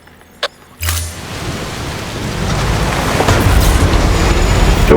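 Heavy video game rain pours down steadily after a brief quiet start, with a low thunder-like rumble building beneath the dense, hissing downpour.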